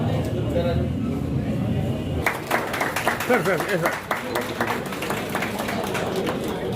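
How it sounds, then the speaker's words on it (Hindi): An audience at a metro smart card launch event breaks into clapping, a dense, steady round of applause that swells after a brief pause and continues under someone speaking. "एक बार तालियां बजाकर एक बार स्वागत हमारे को कहते हैं"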